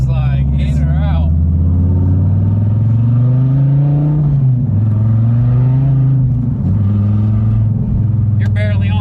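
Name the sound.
2014 Dodge Viper TA engine revving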